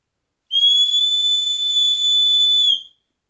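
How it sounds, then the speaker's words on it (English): A K-Bar emergency whistle, made in America, gives one loud, steady shrill blast of close to two and a half seconds, heard alone with no talk. "Okay, that's a good emergency whistle right there."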